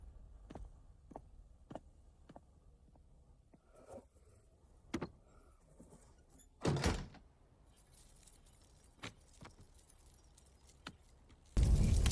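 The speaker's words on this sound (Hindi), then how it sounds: "दरवाजा बंद करो।" A door is pushed shut with a firm thud near the end, following a quiet stretch of scattered small clicks, taps and jangling in a room, with no voices.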